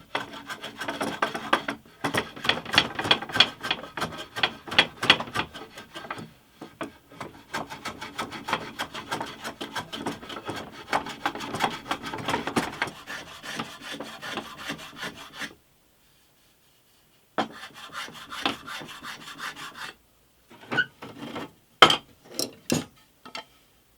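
A laminated wooden guitar neck is trimmed at its end with repeated rhythmic rasping strokes. The sound stops for a moment, then returns as a few sharper, scattered strokes.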